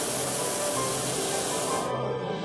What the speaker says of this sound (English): That roaring noise you hear once in a while is the propane?